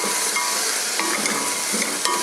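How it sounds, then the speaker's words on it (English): Beef boiling in a pot bubbles and sizzles steadily up close, with soft popping and crackling over a constant hiss. "Already boiling our beef, as you can see. It's already boiling."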